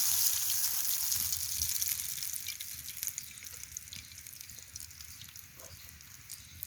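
Cauliflower pakora fry in a pan of hot oil, giving a steady, dense sizzle with crackling that eases slightly over several seconds, with no voices.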